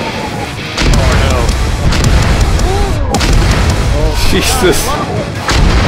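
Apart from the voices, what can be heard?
artillery fire explosions in the video game Arma 3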